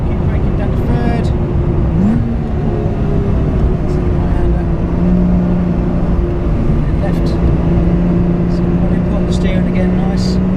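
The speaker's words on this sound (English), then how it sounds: "Exhaust starts to flap and gets noisy." A race car engine drones steadily at high revs on a track, its exhaust flapping and growing raspy, with gear and pitch shifts under an instructor's continuous in-car voice.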